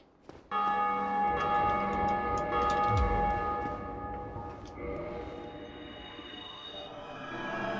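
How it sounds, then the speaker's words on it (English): A bell rings in Dark Souls with one strong, close, resonant strike that hangs in a long shimmering decay and slowly fades, with no one talking. "Oh, the bell ringing sound is basically instant."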